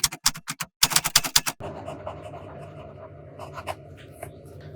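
Fountain pen with a soft fine nib and Sailor Shikiori Yonaga ink scratching across composition lab notebook paper, a close, dry series of short strokes, quick bursts at first, then a lower, steadier scratch.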